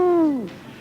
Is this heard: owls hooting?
yes